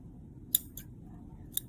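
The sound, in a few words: cutting thread with scissors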